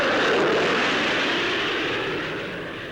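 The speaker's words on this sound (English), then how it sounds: "installed under an Ashton, is the Rolls-Royce Conway bypass engine, a major advance in gas turbine technology." An Avro Ashton flying with a Rolls-Royce Conway bypass engine mounted underneath, heard at an airshow as a loud, broad jet roar that fades slightly as it passes, with no voices.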